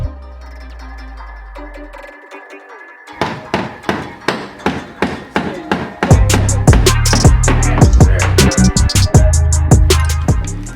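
Mallet taps driving a Mitsubishi Evo X taillight clip loose, a series of sharp, close knocks in an uneven rhythm that speed up and grow heavier, with a low droning backing in the latter half.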